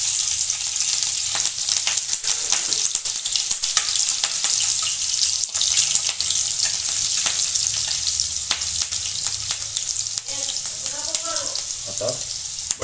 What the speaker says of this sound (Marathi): आता मिरची ॲड करायची।